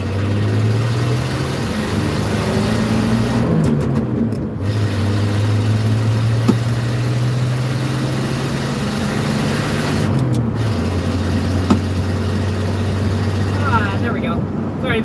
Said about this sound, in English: that exhaust leak has gotten worse in this truck